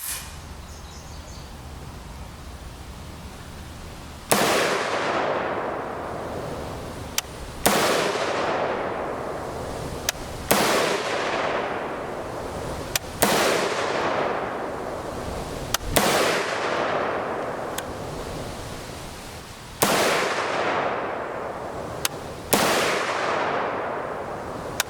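Suppressed 5.56 rifle fired with a Griffin Armament GP5 suppressor, recorded at the muzzle side: seven sharp, loud reports spaced a few seconds apart, each with a quick decaying tail over steady background noise.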